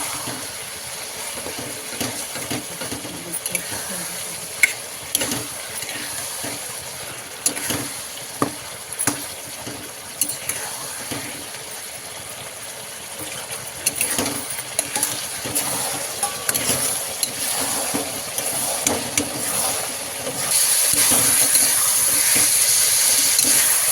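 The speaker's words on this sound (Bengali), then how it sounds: "তো আমি এখানে মশলাটাকে দিয়ে এটাকে খুব ভালো করে কষিয়ে নেব, যাতে মশলার কাঁচা গন্ধটা ভালোভাবেই চলে যায়।" Chicken sizzles and fries in a pan with ground spice paste, a steady crackling hiss punctuated by sharp scrapes and clicks of stirring, growing louder and more intense near the end.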